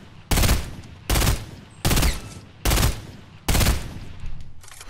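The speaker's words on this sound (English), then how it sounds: "Oof, this gun sounds so beautiful." Burst rifle fire from a Fortnite battle royale match, five loud, evenly spaced bursts roughly every 0.8 seconds, each a dense, rattling volley that cuts off sharply, with a fainter trailing burst at the end.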